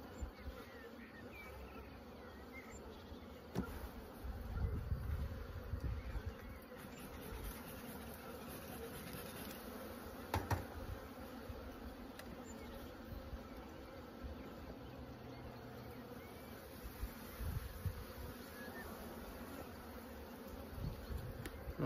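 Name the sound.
honeybee colony buzzing in an open hive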